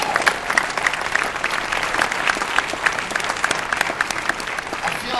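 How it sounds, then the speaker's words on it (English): Steady audience applause at a 2008 NAB industry event, a dense, even wash of many hands clapping throughout, fairly close and loud with no talk over it. "we'll just do it by applause, and I'll be the meter"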